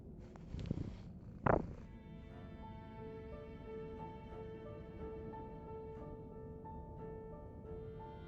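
A pet cat purrs softly and continuously close by, a low steady rumble with a few rustles near the start.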